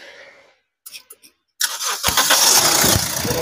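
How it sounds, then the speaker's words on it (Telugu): A Toyota Etios diesel car is started: a few faint clicks, then the starter cranks briefly and the engine catches into a loud, rough, steady diesel idle close by. "నేను వెహికల్ ఇంజన్ అయితే స్టార్ట్ అయితే చేస్తున్నాను ఒకసారి చూడండి"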